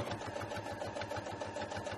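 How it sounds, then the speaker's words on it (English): Sewing machine running a straight stitch down a fabric edge, a rapid, even mechanical chatter heard close and steady but fairly quiet throughout. "stick it underneath the sewing machine, straight stitch all the way down the edge there"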